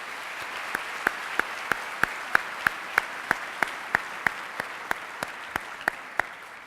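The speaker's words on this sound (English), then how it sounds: "Please join me in a round of applause for our distinguished guests." Slow, evenly spaced claps ring out one at a time at a graduation ceremony, faint and sparse over a quiet room hush, more like a single pair of hands than a full audience.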